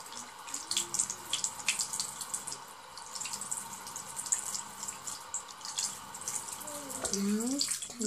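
Tap water runs steadily into a bathroom sink during face washing, with splashing and dripping close by and a voice heard briefly toward the end.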